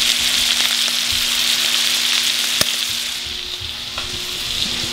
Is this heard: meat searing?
yes